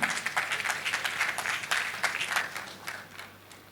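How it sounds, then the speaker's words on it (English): An audience applauds at an education event, a steady crowd of clapping hands heard fairly close, continuous and gradually tapering off near the end. "We give a resounding round of applause"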